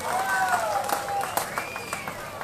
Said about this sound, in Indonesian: Satu tepuk tangan untuk Retro Session